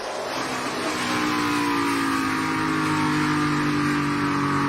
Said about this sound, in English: It's a drag race to the checkered flag.